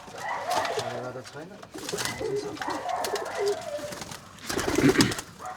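Panjabi racing pigeons coo in a loft in Nepal, with low throaty calls repeating close by while people talk over them.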